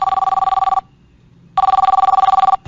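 Telephone ringing during a call: two loud electronic trilling rings separated by a short silent gap, rapid pulsing bursts with no voices.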